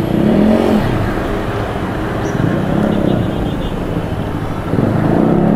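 Busy road traffic in the Philippines with cars and motorcycles rumbling past close by as a steady, dense engine drone, with people talking over it.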